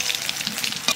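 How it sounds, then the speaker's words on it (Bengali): Bay leaf and black cumin sizzle in hot oil, a steady bright hiss with faint crackles heard close up over one second. "তেলের মধ্যে দিয়ে দেবো তেজপাতা আর কালো জিরে।"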